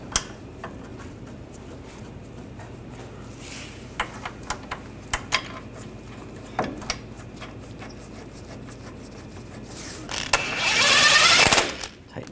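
Caliper bolts threaded in on a 2014-2018 GMC Sierra 1500 front brake, sparse metallic clicks and ratchet ticks scattered across the stretch, ending in a short burst of rapid ratcheting.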